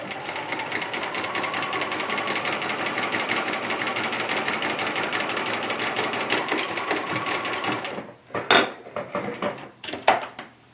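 A sewing machine stitches fabric for a Simplicity 8532 sewing pattern with a steady, rapid, whirring hum for about eight seconds. It then stops, followed by a few scattered clunks and knocks.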